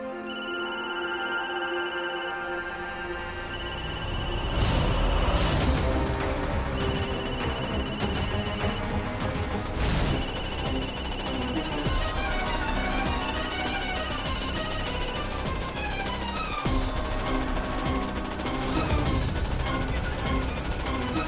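A telephone rings in repeated bursts over dramatic background music in a Hindi TV drama scene, the ring pattern continuing steadily throughout.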